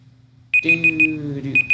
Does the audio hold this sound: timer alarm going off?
yes